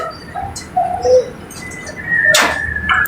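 Soft pigeon coos and low murmurs close by from a cage, with faint chirps and a brief rustling clatter partway through.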